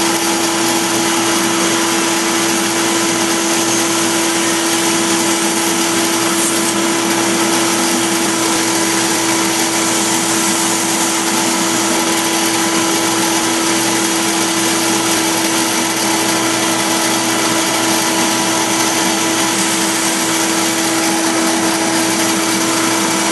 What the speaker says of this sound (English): I'll just start the machine and make those cuts